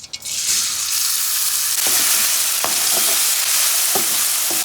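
Hot oil tempering on a pan for a potato samosa filling crackles in a loud, continuous sizzle, close up, with occasional spatula taps punctuating the frying.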